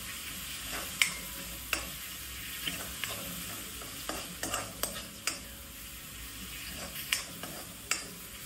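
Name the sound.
green chillies and coriander frying in a pan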